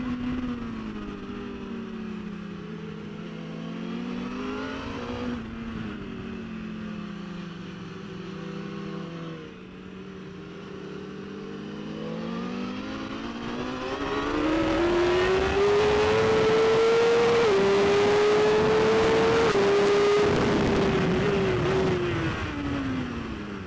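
Vehicle on a track day at Mission Raceway, its engine tone dipping and rising through gear changes before building into a long, loud, steadily climbing acceleration with wind rush.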